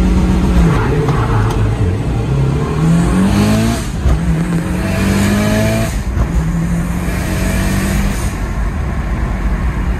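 A four-wheel-drive car revs hard toward 5000 RPM for a standing launch, the engine note rising and dropping in repeated loud sweeps, close and aggressive with a strained, tire-scrubbing edge.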